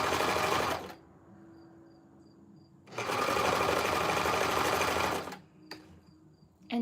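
A sewing machine runs in two loud, steady bursts while stitching a 90s co-ord set, with a short near-silent pause between them and a brief quiet tail at the end, no talking.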